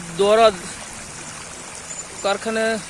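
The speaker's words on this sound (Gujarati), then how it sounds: "જે કેમિકલ યુક્ત પાણી સીધું ભાદર નદીની અંદર જે છોડવામાં આવી રહ્યું છે" Chemical-laden factory wastewater pours straight into the Bhadar river on Derdi Road, Jetpur, with a steady rushing flow throughout and brief voices rising over it twice.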